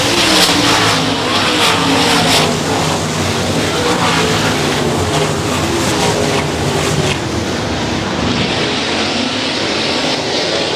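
Sprint cars racing at Ionia Raceway Park, a loud, dense engine roar that holds steady throughout as the cars pass close by, with no voices over it.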